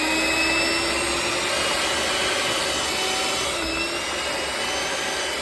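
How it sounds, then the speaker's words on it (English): A handheld electric mixer creaming butter and sugar for a Jamaican fruit cake, a steady whirring motor hum with a gritty scraping texture that runs evenly throughout, close and moderately loud with no talking. "incorporate the butter and the sugar using a handheld mixer"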